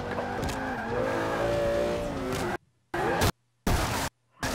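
A car engine in Forza 5 revs hard and rises in pitch while driving, with a hint of tire squeal, then cuts out abruptly into several short silent gaps broken by brief returns of engine noise.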